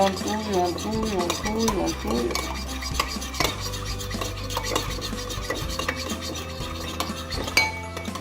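A utensil scrapes and clinks around a pan as a half-and-half mix of grape seed oil and olive oil is stirred for a potato tortilla, with close, rhythmic rubbing and metallic taps and brief voice sounds.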